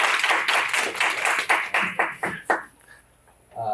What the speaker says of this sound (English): let's clap it up for Stella